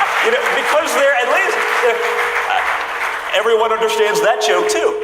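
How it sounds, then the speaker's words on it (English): An audience claps loudly and continuously at a business summit while someone speaks over the applause. "A big round of applause for anybody who begs to differ."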